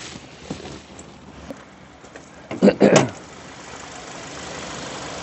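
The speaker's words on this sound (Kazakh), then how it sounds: "Қараңыздар, мотор қандай жақсы жұмыс жасап, әдемі жұмыс жасап тұр." A 2019 Hyundai Sonata with a 2-litre gas engine idles with the hood open, a low, steady hum under a few brief sounds and a short burst of voice.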